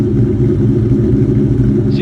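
A Terminator Cobra idles through an exhaust with Bassani baffles, a loud, close, steady low rumble with a deep throbbing pulse.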